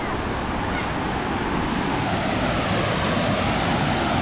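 A river flows in a steady, continuous rush of broadband water noise, close and fairly loud throughout, with no speech.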